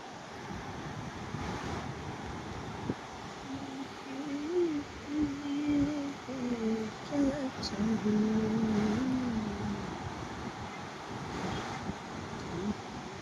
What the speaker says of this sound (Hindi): आप आवाज को सुन रहे होंगे इस, ये जो पानी की गड़गड़ाहटें हैं